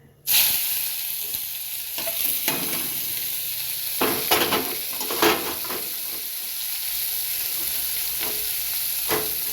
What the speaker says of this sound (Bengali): এবার আমি শাকটা দিয়ে দিচ্ছি।